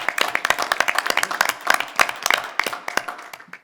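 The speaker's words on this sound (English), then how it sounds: "So I think that deserves a round of applause as well." A room at a board of education meeting fills with steady clapping from a group of people, a dense patter of claps that slowly thins out toward the end, with no one speaking.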